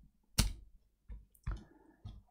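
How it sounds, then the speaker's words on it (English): The cooling fan connector is unplugged inside an HP Pavilion laptop, heard as a sharp close plastic click followed by three softer clicks and taps, quiet and dry with no voice. "I'll disconnect the fan"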